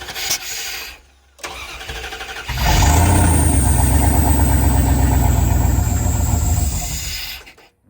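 A Dodge truck engine cranks, catches and roars up in a sustained, loud rev, holds a steady throaty run for several seconds, then cuts off, heard up close with no talking.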